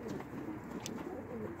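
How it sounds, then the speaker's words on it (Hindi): Baby high-flying pigeons shut in a loft give soft low cooing, with a couple of faint chirps, close by and without talk. "ये बेबी पिजन चेक करें"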